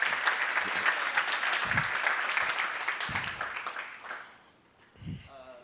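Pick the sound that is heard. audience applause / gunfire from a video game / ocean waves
audience applause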